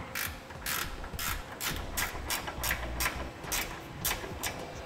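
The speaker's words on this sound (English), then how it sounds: "we'll go ahead and use a 9/16 ratchet wrench, and one that flexes works out really great in this application here" Repeated ratcheting clicks from a 9/16 flex-head ratchet wrench tightening hardware on Air Lift LoadLifter 5000 air helper springs on a 2009 vehicle, steady rhythmic bursts of close, crisp pawl clicks with no talking.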